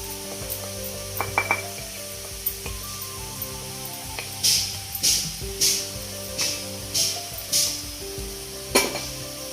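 Cabbage with fried egg sizzles in a pan under steady frying hiss, with a few sharp scrapes and clinks and a run of rhythmic stirring bursts partway through.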